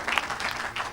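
A church congregation applauding during a preaching service, a brief steady wash of clapping hands from the crowd, moderately loud and close.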